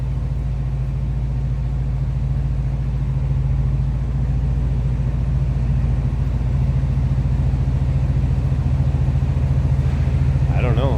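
1983 Oldsmobile Cutlass Hurst/Olds 15th Anniversary edition idles close by with a steady, deep low rumble that holds evenly throughout, with nothing else heard over it.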